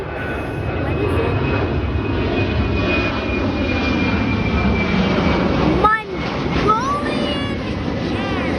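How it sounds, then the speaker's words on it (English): A Mongolian Airlines jet passing at night near Hong Kong International Airport gives a loud, steady engine roar with a sustained whine, while voices murmur at times in the background. "starting to hear a plane now"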